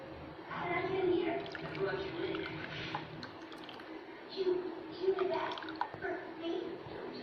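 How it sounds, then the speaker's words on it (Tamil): Buttermilk pours into a bowl for honey lassi with soft liquid splashing and dribbling, close and fairly quiet, under a person talking. "இந்த பவுலில் வந்து இந்த மோரை ஊற்றிக்கிறேன்"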